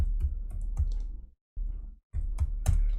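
Clicking keystrokes on a computer keyboard come in short irregular runs separated by brief silent gaps, close and fairly quiet.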